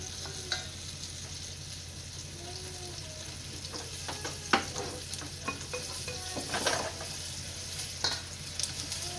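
Steady frying sizzle from two pans with scattered clinks and scrapes of a utensil stirring, fairly close, no talking.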